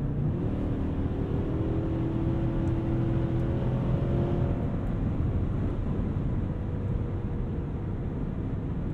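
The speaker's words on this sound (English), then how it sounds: "Any type of V8 like this is the typical acceleration." Steady, loud low engine drone from a 2022 Cadillac Escalade ESV's V8 under acceleration, heard from inside the cabin with a constant rumbling roar and faint rising tones throughout.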